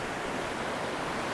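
Rough ocean water churns and surges around a fishing pier, making a steady, dense wash of surf that stays close and continuous throughout, with no voices.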